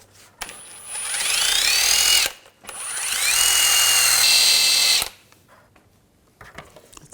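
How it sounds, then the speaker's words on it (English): A drill-driven wire brush scours rust from the steering rack and tie rod area of a 2011-2018 Volkswagen Jetta, running in two long, loud, close bursts with a whining motor spin-up and harsh scraping hiss, separated by a brief pause. "we're just going to clean this up with a wire brush"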